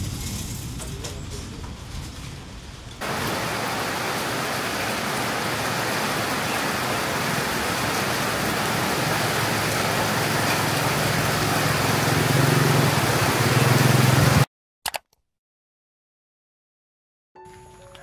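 Steady, dense hiss of heavy rain that starts abruptly and grows louder, with a low engine-like rumble beneath, then cuts off suddenly.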